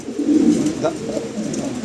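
A King pigeon coos in low, throaty murmurs against a soft background hiss, the cooing steady and fairly close throughout.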